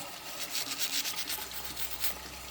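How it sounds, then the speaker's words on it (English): A denture brush scrubbing a denture liner, giving a steady bristly rubbing with repeated short back-and-forth strokes, close and moderately loud, with no speech. "So, I scrub it up like this."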